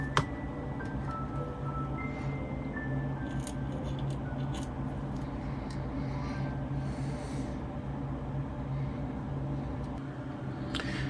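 Small scissors snip through planking on a 1:200 scale HMS Victory wooden ship model kit, quiet close cuts over a steady low background hum.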